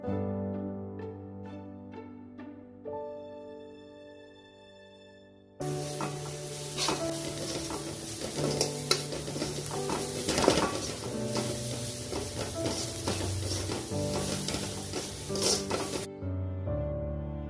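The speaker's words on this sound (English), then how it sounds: "Now add the Schezwan fried rice masala and saute it for a minute." Schezwan fried rice masala sautéed in a pan, a steady close sizzle with stirring and scraping for about ten seconds, starting abruptly and stopping abruptly, with quiet tonal music before and after.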